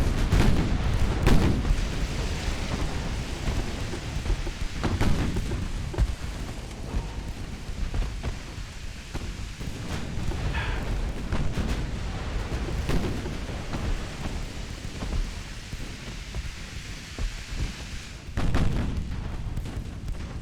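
Naval gunfire from early-1900s French campaign warships in Ultimate Admiral: Dreadnoughts: heavy, distant booms at irregular intervals over a continuous rumbling battle din, no voices.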